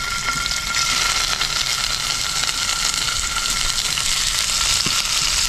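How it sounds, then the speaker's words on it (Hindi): Paneer fries on a high flame in a pan for matar paneer pulao, giving a loud, dense and constant sizzle up close, with a faint stir toward the end and no talking. "फिर से दूरी पर रखकर पनीर को हम एकदम बढ़िया से फ्राई कर लेंगे।"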